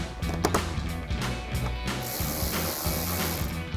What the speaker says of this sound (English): we'll just keep installing our factory screws